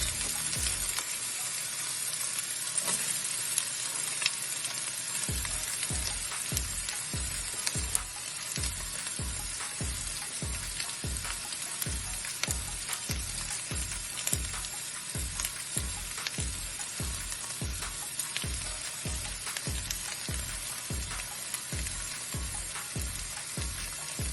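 Cabbage stir-fried for street-style Hakka noodles: a constant close sizzle with a fast, steady run of rhythmic metal scraping and tossing strokes in the wok, starting after a few seconds.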